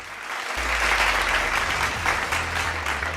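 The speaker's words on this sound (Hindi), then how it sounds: "भूमित सर के लिए जोरदार तालियां" Audience at an education event applauding to welcome a speaker onto the stage, loud sustained clapping over a low hum, no speech on top.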